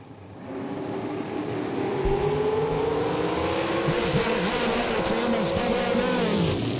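Blue drag racing dragster launching down the strip, engine roar rising quickly to a loud sustained howl with shifting pitch, heard from a distance with no talk.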